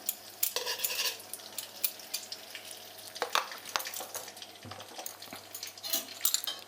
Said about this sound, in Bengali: 1 টেবিল চামচ পরিমাণ ঘি দিয়ে দিলাম।